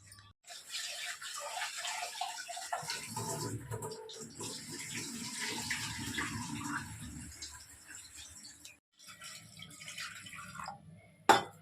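Water splashes and pours steadily into a cooking pot for several seconds, a broad wet rush with a brief pause near the end, no talking.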